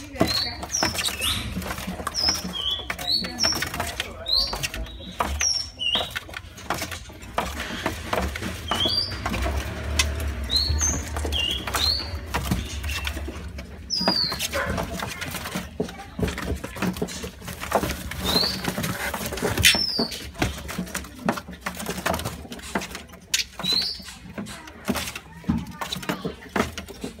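A male songbird gives short, high chirps repeated at irregular intervals, fairly faint against steady rustling background noise.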